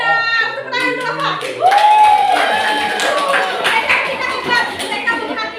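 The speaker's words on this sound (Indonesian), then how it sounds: "Tepuk tangan untuk Lofa." A classroom of students clapping for a classmate during a religious studies lesson, lively group claps mixed with children's voices and a whooping cheer, following a teacher's short spoken line.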